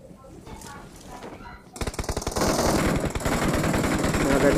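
Rapid automatic gunfire in the BGMI battle royale video game, a dense burst of repeated shots that starts abruptly after a quieter stretch and keeps hammering loudly to the end, with faint talk underneath.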